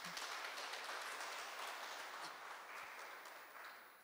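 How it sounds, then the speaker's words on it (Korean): Faint, distant applause rolls through the hall at the 2020 Lee Hae-rang Theatre Award ceremony, a soft continuous patter that tapers slightly toward the end, with no talking. "박수 부탁드립니다"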